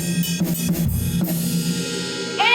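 A drumstick taps the bell of a ride cymbal in a home drum room. A few quick close strikes leave a bright ringing tone that lingers and fades, and a fresh hit comes at the end.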